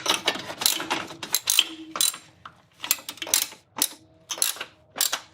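Ratchet wrench tightening 10mm bolts on a metal battery tray of a 1992 Acura Legend, a series of close, loud bursts of rapid clicking separated by short pauses, with no talk.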